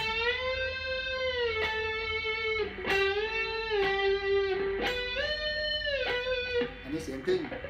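Distorted electric guitar notes bent up and held during a basic string-bending lesson. The sustained, buzzing tones slide upward several times in a row over a steady background hum.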